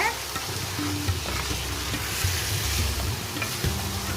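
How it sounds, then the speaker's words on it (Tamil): Chicken masala with kasuri methi fries in oil with mustard seeds while being stirred, giving a continuous close sizzle with soft scraping and bubbling underneath and no voices. "நல்லா ஸ்டர் பண்ணி விட்டுக்குங்க, நல்லா கிளறி விட்டுக்குங்க."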